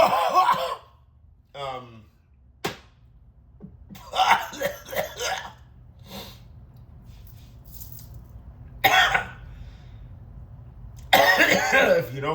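Several rough coughs and throat clearings in bursts, spaced apart with quiet gaps between them, close to the listener.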